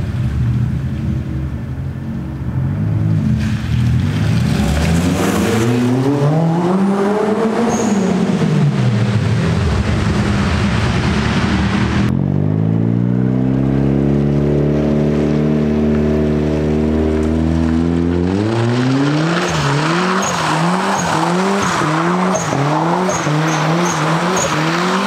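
A Mazda Miata drives and slides, its engine revving up and down through repeated swells and shifts, with stretches of higher-pitched whine that could be tire squeal, loud and close throughout, with no talking.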